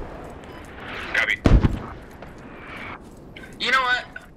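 HE artillery rounds fire in the video game Squad, with one sharp, heavy blast standing out among nearby game noises while players talk over the radio.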